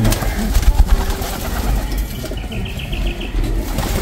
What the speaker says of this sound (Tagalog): Lahing ice pigeon.